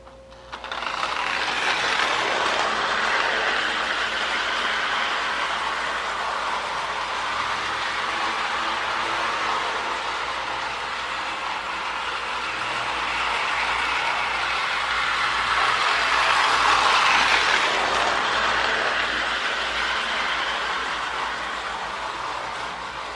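An Ameri-Marx Zephyr model train with a custom-decaled plastic body runs steadily along its track. A continuous mechanical whir and rumble holds throughout and swells slightly near the end.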